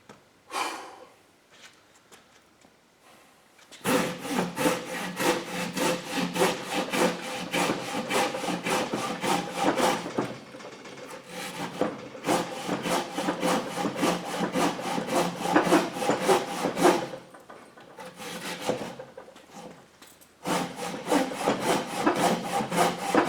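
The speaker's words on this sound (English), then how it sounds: "let's finish up with the brand new Gomboy Professional Curve 240 millimeter." A Silky Gomboy Professional Curve 240 mm folding saw with a curved blade cuts through wood in long runs of rapid, rasping strokes, loud and close, broken by a few short pauses.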